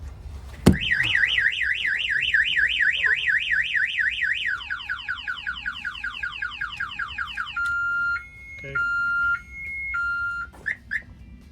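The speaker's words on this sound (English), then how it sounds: "The alarm is gonna fire off." A Peterbilt 389 truck's alarm cycles through siren patterns: rapid warbling, falling sweeps, then steady two-tone beeps, close and piercing, preceded by a sharp bang.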